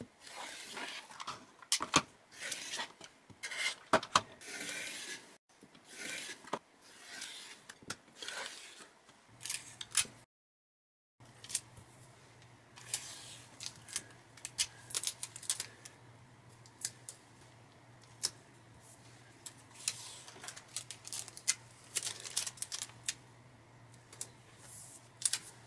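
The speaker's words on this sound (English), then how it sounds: "I'm going to trim the edges I need off each of the pages," Paper pages being trimmed with scissors and taped together, close and quiet: a run of irregular snips, taps and crinkles, a brief silent gap, then more scattered cutting and handling over a low steady hum.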